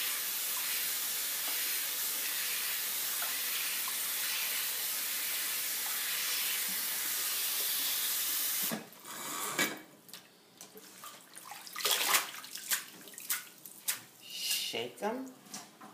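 Mustard greens are washed under a running kitchen tap, first as a steady hiss of flowing water, then as irregular splashing, rustling and clattering bursts as the leaves are handled.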